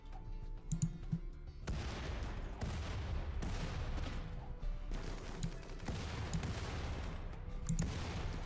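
Gunfire during a raid in RimWorld, faint scattered volleys of small popping shots in irregular clusters over a continuous noisy background.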